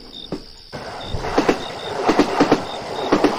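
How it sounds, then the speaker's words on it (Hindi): A train on a rail line near Badlapur station starts to roll, with two short high horn-like tones early on and then rising, rhythmic wheel clatter and clanks building steadily over continuous rumble, with no voices. "ट्रेन ने 2 बार हॉर्न दिया और धीरे धीरे चल पड़ी।"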